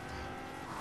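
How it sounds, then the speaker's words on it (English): Car engine in the Fortnite video game, a brief steady motor drone at low level with no speech over it. "Alright, Elijah, here, I got you a nice car."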